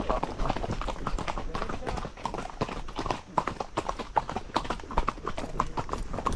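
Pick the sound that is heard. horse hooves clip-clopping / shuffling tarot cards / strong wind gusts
horse hooves clip-clopping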